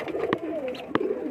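A young pigeon coos softly up close, with a short low warble and several brief sharp clicks or taps at irregular intervals.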